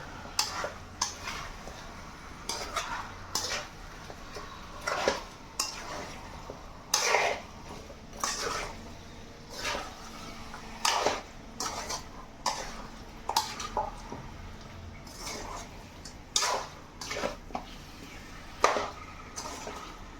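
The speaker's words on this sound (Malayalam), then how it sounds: "ചിക്കൻ ഇട്ടൊരു ഒരു മിനിറ്റ് ഒന്ന് മിക്സ് ചെയ്ത് കൊടുക്കാം നമുക്ക്" Chicken pieces being stirred in a pan for a Kerala-style chicken curry, a spoon knocking and scraping against metal in irregular, repeated clinks and scrapes, close and fairly quiet.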